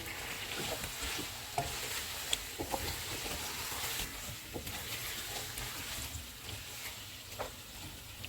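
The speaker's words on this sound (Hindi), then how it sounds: "अब इसमें आलू डालेंगे, इनको 2 मिनट तक भूनेंगे।" Potatoes and chicken fry in a pot for aloo chicken shorba, a soft steady sizzle under occasional light clinks and scrapes of stirring, fairly quiet and close.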